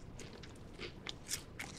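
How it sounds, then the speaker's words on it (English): Crunchy Lay's potato chips, a limited European flavor, being bitten and chewed up close, giving a run of sharp, crackly crunches with no talking. "But then the more you eat, and the more you chew it up,"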